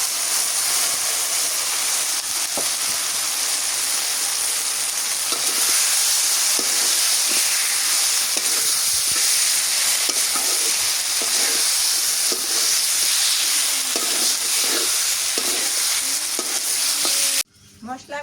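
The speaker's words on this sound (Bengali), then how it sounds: "মশলা কষান করে গোস্তরও দিয়ে আবার কষান করতেছি" Country chicken meat fries with spices in a pan, a loud, continuous sizzle with repeated stirring scrapes, cutting off abruptly near the end.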